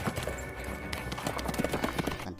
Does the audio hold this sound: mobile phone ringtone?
no